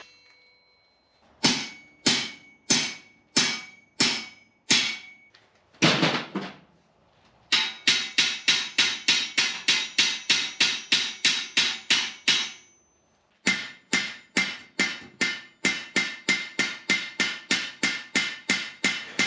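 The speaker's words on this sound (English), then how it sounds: "once all the rivets are in place, it's time to pin them over and rivet this together." Hand hammering of rivets to join forged iron parts of a Victorian workshop jib crane, sharp ringing blows struck alone in steady runs, first spaced slowly, then in faster rhythmic series separated by brief pauses.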